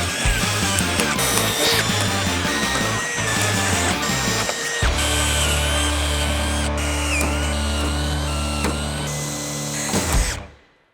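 A power drill bores out rivets on the wing of an abandoned airplane, loud whining bursts that start and stop, followed by a long steady high-pitched run over a low motor hum before it winds down.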